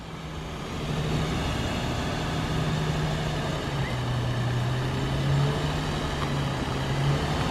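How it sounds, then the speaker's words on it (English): A new car's engine hums steadily while driving, its drone climbing and shifting in pitch as it revs, loud and close throughout with continuous road noise. "Hey, you don't gotta rev it that much."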